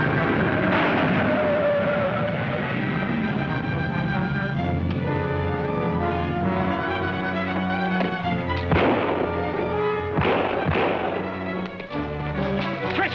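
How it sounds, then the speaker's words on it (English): Gunshots on a road in a 1941 film serial: sharp cracks and bangs scattered over a dense, loud orchestral score, with a few bursts standing out near the end. "that sounds like gunshots in the road ahead"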